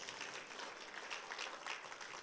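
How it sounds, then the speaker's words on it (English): An audience claps in sustained, even applause, a dense wash of many hands, moderately distant and fairly quiet. "You need to give a round of applause for this."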